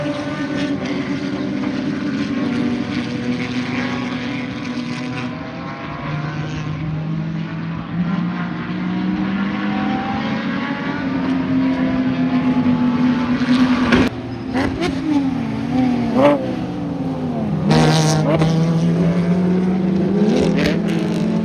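A Porsche 987 race car in a Porsche Club track race drives hard, engine note sweeping up and down through gear changes, loud and close, with sharp bursts and shifts near the middle and end.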